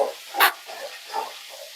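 A spoon scrapes and stirs chicken gravy with garlic sautéing in a pan at home, giving a few separate, close scraping strokes with a faint sizzle between them.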